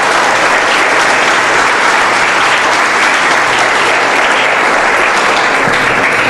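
Dense, sustained applause from a large church congregation at an Easter Sunday service, a steady roar of many hands filling the full clip with no break.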